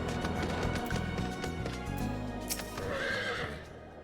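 A horse neighs in the video game Final Fantasy XIV, a bright whinny over hoof clip-clops and dense game music and effects, fairly loud throughout.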